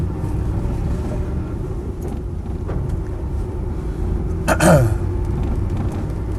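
Land Rover 90 CSW V8 with 123,000 miles trundling along, a steady low engine and road rumble with wind buffeting, plus a brief squeaky rattle near the end.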